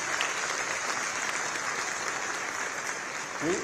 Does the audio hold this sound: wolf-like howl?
no